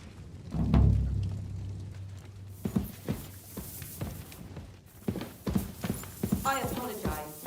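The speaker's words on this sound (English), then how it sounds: "Saddle your horse and get ready." Hooves clip-clop in a steady trotting rhythm, close by, after a horse's whinny, with sounds from the game Kingdom Come: Deliverance II in the background.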